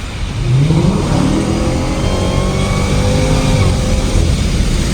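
Dodge Challenger Hellcat Redeye Widebody accelerating hard from inside the car, a loud sustained engine roar with rising pitch through the pull, steady and close for the whole stretch.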